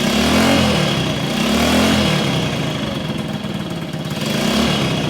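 A vintage 1964 Honda C200 motorcycle engine runs steadily close by, its low, throbbing exhaust note swelling and easing in slow surges without any talk.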